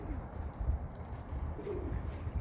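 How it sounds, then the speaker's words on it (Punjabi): Soft, low pigeon coos repeat close by over a murmur of background noise. "ਭੁੱਖੇ ਸੀ ਵਿਚਾਰੇ ਕਬੂਤਰ ਕਿਦਾਂ ਆ ਗਿਆ ਸਾਰੇ"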